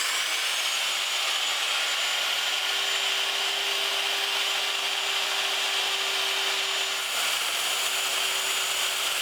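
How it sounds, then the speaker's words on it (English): A router fitted with a flush cut bit trims wood veneer on a platform bed in a workshop, giving a loud, continuous motor whine with a steady hum beneath a broad rushing hiss. The sound is unbroken apart from a brief dip near the end. "I'm going to start off by trimming the veneer with a flush cut bit in the router"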